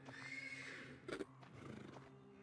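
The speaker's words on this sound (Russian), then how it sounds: "Из конюшни доносится обеспокоенное ржание станционной лошади" A station horse in the video game Black Book lets out one uneasy whinny from the stable, a short tremulous neigh rising over a low, droning ambient hum, with faint hoof shuffles around it.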